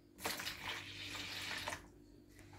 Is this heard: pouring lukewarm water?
yes